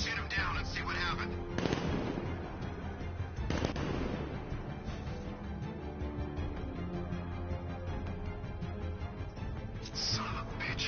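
Gunfire in the video game Batman Arkham Knight: sharp bursts of shots near 2 and 4 seconds, then rattling fire and one more burst near the end, all over game music and effects.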